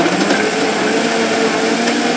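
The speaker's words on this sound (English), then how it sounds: "Let's get to blending. And I just cut it on now." A Vitamix blender whirs loudly and steadily, close by and alone, as it purees kale, blueberries, pineapple and apple juice with a constant high-pitched motor whine.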